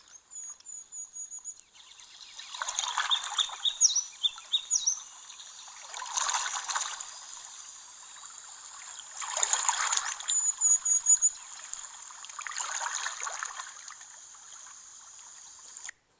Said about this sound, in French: Donc c'est un son de barque.